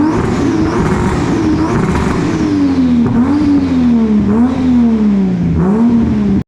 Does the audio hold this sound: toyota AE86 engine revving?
yes